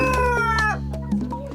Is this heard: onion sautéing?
no